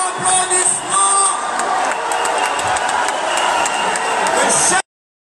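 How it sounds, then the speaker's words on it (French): Audience applause and cheering at an Élysée Palace event in Paris, a speech to the Congolese diaspora, as the president and first lady are welcomed: a dense, steady crowd roar for nearly five seconds that stops abruptly. "Madame Denise Nyakeru Tshisekedi, sous vos applaudissements"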